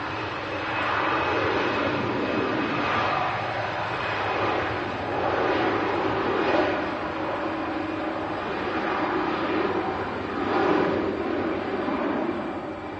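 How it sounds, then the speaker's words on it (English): An Iberia Express airliner departing for Madrid roars on takeoff, a broad, sustained jet-engine rush with slow surges that fills the scene without any voices. "Here we go, Iberia Express, 3:20 departing back to Madrid."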